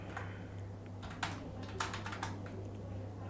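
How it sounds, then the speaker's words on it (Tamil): Typing on a computer keyboard in a quiet room with a steady low electrical hum, a run of soft, irregular key clicks with a few sharper taps standing out. "இப்போ ஸ்டில் நான் இப்போ டைப் பண்ணுறேன்."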